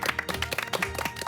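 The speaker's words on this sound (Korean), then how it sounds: "박수 한번 주세요" Audience clapping at a Korean military-themed TV show, a dense burst of many hands applauding together at steady volume for a short moment.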